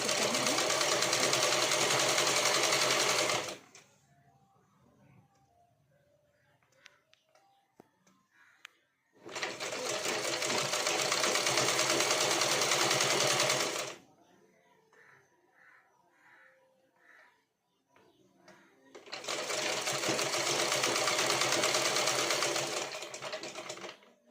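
A sewing machine stitches fabric scraps in three long, loud, steady whirring bursts, separated by quiet pauses with faint handling noises.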